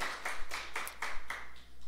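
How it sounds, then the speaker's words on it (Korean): Church congregation clapping in welcome during a Sunday service, a brisk run of about eight even, sharp handclaps, close and clear with no talk. "박수로 환영합니다."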